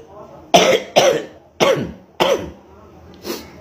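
A man coughs in a quick series of four harsh, close bursts followed by a fainter fifth, each separated by short pauses, with no talk over them.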